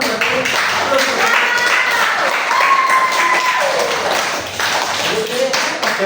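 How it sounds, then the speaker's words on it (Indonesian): A class of students claps their hands together in loud, continuous applause, with a few voices chattering faintly beneath it. "Tepuk tangan dong berarti."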